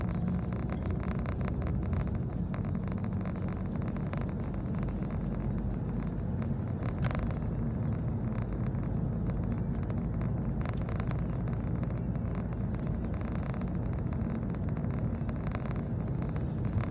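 A car rolls through city traffic between Rímac and Miraflores in Lima, Peru, heard from inside as a steady, even engine-and-road rumble with light wind noise throughout and no talking.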